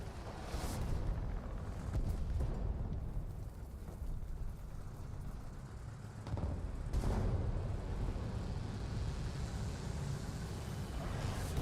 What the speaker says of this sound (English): That poor guy got hit by a giant bomb.